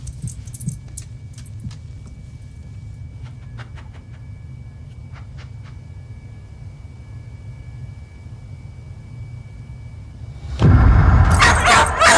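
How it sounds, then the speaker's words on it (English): A dog barks and yips in a few short bursts early on, then a loud burst of clattering, jangling noise breaks in near the end over a steady low hum. "That dog."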